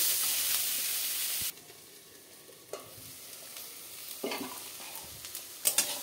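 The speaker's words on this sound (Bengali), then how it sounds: "2 মিনিটের মতন এরকমই ভাজবো আমি।" Eggplant and red amaranth greens sizzle and crackle in a hot pan, a steady frying hiss that drops quieter partway through, with occasional scrapes of stirring.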